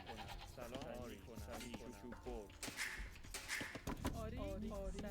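Sheep bleating in a strategy video game, several wavering bleats repeating over busy game sounds, with a voice talking through much of it.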